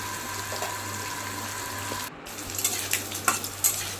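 Bitter gourd and ginger frying in hot oil in a home kitchen, a steady close sizzle with a brief dip midway, then a few sharp stirring clinks and scrapes near the end.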